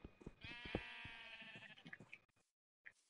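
Sheep in a stormy survival video game bleat in a drawn-out, wavering cry that dominates the first two seconds, with a few soft clicks and quieter game sounds around it before a brief silence.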